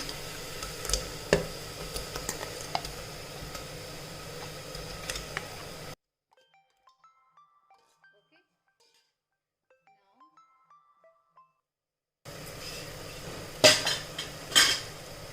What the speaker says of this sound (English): So now to this I am going to add mutton.